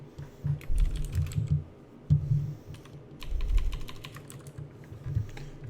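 Typing on a computer keyboard during a live stream, with quick irregular runs of keystrokes and short pauses between bursts, close and fairly clear with no talking.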